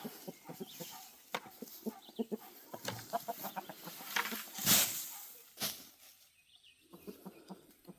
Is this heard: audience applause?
no